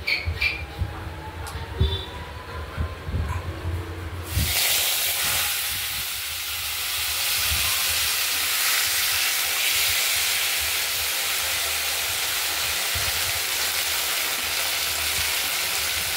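Boiled taro greens tipped into a hot kadai with cumin tempering hiss and sizzle loudly, a steady close frying roar that starts abruptly after a few seconds of quieter kitchen sounds and then continues unbroken.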